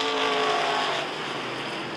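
Race cars running side by side for the top four spots in a bracket feature at Rockford Speedway, a dense, loud engine roar that holds steady for two seconds with a slight drop in level partway through.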